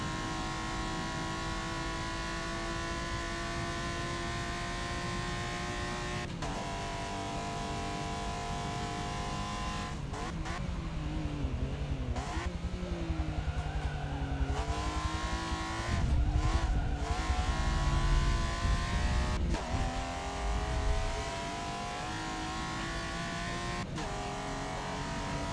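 A stock race car laps a circuit in Forza Motorsport, its engine droning and rising through the gears with brief drops at shifts, tire squeal through the corners, a steady loud motor sound with no talk.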